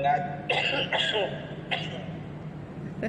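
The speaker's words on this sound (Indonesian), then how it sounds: "Batuk." A few harsh coughs, three or four rough bursts spaced irregularly, close by, with throat-clearing quality.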